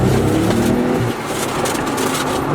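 Nissan 300ZX twin turbo engine revving hard into boost, a loud, close, continuous roar that dips briefly and climbs again, with no talking.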